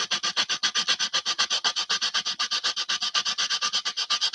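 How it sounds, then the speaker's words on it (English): Sandpaper cross-sanding the plastic body of a model car, a fast, even rhythm of short rasping strokes, close and alone with no talk. "let's just take off this other stuff with our sandpaper"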